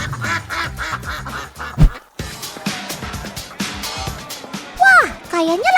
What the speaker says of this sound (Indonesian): Tuh lihat, bebeknya banyak banget.